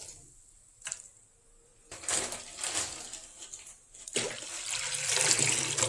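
About a liter of water pours into a pot of blended mint and coriander paste, a gushing splash rising after a short quiet start and running steadily close by.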